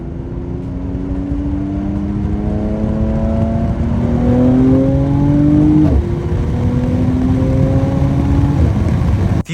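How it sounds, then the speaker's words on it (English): An AMG car's exhaust roars as it downshifts into third gear, engine tone climbing in stepped rising sweeps with a loud blip near the middle, heard close from inside the cabin with no talking. "So let's say I roll down the window a little bit, downshift into third"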